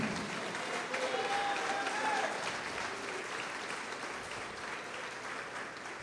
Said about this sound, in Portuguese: pode aplaudir o Senhor, pode glorificar Deus